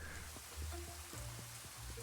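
Rain falls outside with a steady light patter on surfaces, low in level, with a few scattered louder drops and low background rumble and no speech.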